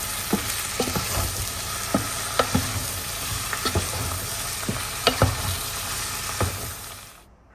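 Food seasoned with chili powder, coriander and cumin fries in a pan with a steady sizzle, broken by sharp scrapes and clacks of a spatula stirring at irregular intervals, close and alone with no voices.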